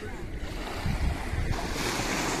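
Sea waves and surf roll in at the shore, a loud continuous wash with rising surges, mixed with gusty wind noise on the microphone.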